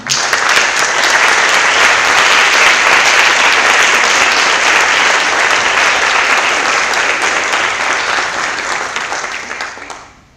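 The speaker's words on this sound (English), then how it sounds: "So I would like to ask for a round of applause for them." Loud, sustained applause from a large audience at a congress closing ceremony, steady clapping throughout that tapers off at the very end.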